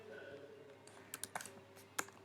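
Quiet typing of a command on a computer keyboard, with scattered soft key clicks and a few sharper taps in an uneven rhythm over a faint steady background hum.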